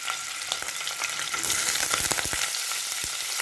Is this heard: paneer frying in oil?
yes